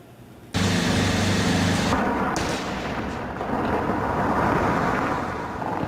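A large explosion destroying a revered holy site in Mosul, Iraq: a sudden loud blast followed by a long, dense roar of rumble and debris that holds for several seconds with no voices.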